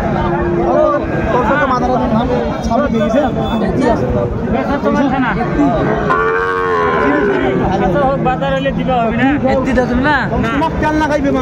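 Cattle moo loudly and repeatedly over a busy crowd, with people talking and chattering all around at a livestock market in Comilla, where Sahiwal bulls and calves are sold.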